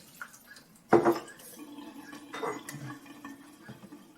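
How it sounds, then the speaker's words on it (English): A measuring cup set down inside a bowl in a home kitchen, one sharp clink followed by a softer rattle, with quiet handling noise around it. "I'm just going to go ahead and put the measuring cup inside the bowl"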